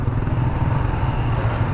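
A matte green 2019 Yamaha Sniper 150 motorcycle engine runs steadily and close by, giving a loud, continuous low rumble with no pauses.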